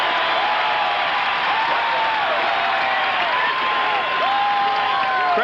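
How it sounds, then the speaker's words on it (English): A college football stadium crowd at a Temple versus Penn State game applauds and cheers in a dense, continuous roar that stays loud throughout without any break. "that's the crowd showing their appreciation."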